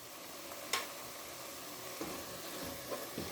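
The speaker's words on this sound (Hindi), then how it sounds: "अब ये मैं हाफ कप इसमें घी डाल रही हूँ और इसको हमने अच्छी तरह से भून लेना" Grated carrot halwa fries in ghee in a pan, giving a soft, steady sizzle at low volume with an occasional scrape or click of stirring.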